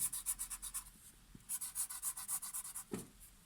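A crayon or pencil colors in a first-grade math worksheet page. Quick rhythmic back-and-forth scratching strokes come up close and faint in two bursts, and a brief thump falls near the end.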